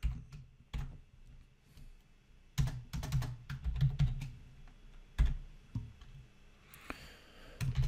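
Code typed on a computer keyboard for a .NET Core program comes through as close, crisp key clicks in irregular bursts with short pauses between them, no talk.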